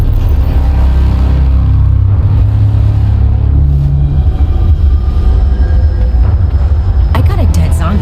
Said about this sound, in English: this is as far as we get by train